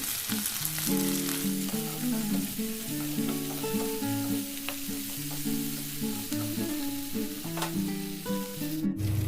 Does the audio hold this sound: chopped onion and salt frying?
yes